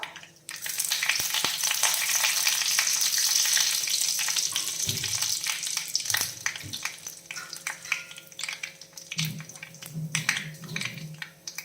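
Half a teaspoon of mustard seeds and some curry leaves hit hot oil with a sudden loud sizzle that settles into busy crackling, with a few soft clinks and spits later, alone.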